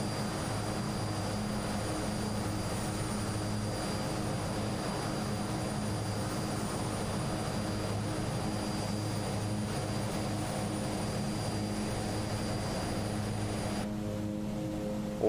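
An Aerosoft Twin Otter propeller plane climbs out in Microsoft Flight Simulator, its steady droning engine hum holding loud and unbroken with a constant high whine above it, then shifting tone near the end.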